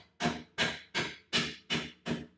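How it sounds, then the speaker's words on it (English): A soft hammer taps a sway bar link bolt out on a 2019 Golf R: six sharp, evenly spaced knocks about a third of a second apart, close and clear with no voices. "I like to use a soft hammer here"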